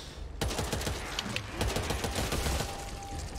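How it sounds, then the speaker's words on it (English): Rapid bursts of automatic gunfire in the co-op zombie shooter Back 4 Blood crackle close and continuous, with overlapping shots and no pauses for a few seconds. "Don't shoot teammates."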